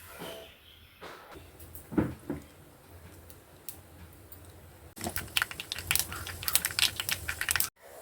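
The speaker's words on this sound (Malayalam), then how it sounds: "ഇതിലേക്ക് കടുക് ഇട്ട് പൊട്ടിക്കാം" Quiet sizzling gives way to a burst of dense, rapid crackling and popping as mustard seeds hit hot oil, close and sharp, until it suddenly cuts off.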